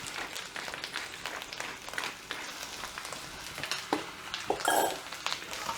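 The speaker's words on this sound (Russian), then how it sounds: "Перемешиваю." Chanterelle mushrooms fry in a pan while being stirred, giving faint scraping and clicking of the utensil against the pan over a soft sizzle.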